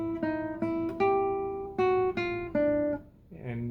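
Classical guitar plays the opening measure of Frederick Noad's Exercise 18, a series of plucked single notes and chords with a tied eighth note, ringing clearly and close with no voice over it.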